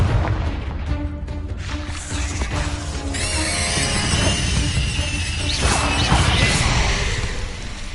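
A Confringo spell blast in Hogwarts Legacy: a rushing whoosh into booming, crashing impacts over busy game sounds, loud and continuous.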